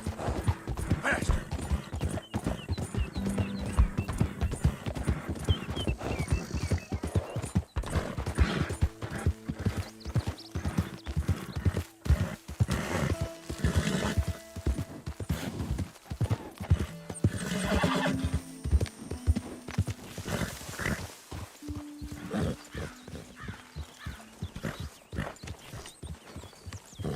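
Rapid clip-clop of horse hooves with whinnying in the video game Red Dead Redemption 2, busy and loud, mixed with music-like tones and occasional voices.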